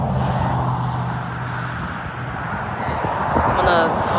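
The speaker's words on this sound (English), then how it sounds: "That's why you can hear the cars going past." Traffic on a main road rumbles steadily, with passing cars making a continuous broadband wash and a few swells as vehicles go by close to the microphone.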